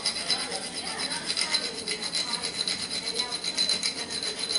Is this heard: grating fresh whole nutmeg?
yes